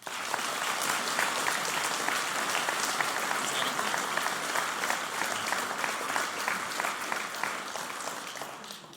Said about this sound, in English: could I ask you to give them a round of applause, please?